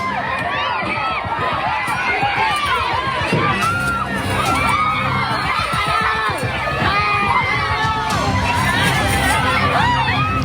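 Agitated crowd of residents shouting and screaming in panic as they damage a vehicle and drag its driver out of the cab, a dense, continuous roar of many voices close by throughout.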